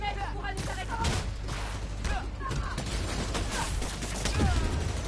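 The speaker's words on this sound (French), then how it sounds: "Il tire partout." Rapid gunfire crackles through a Spider-Man: Miles Morales video game scene in dense, overlapping bursts, mixed with game effects and a player's speech.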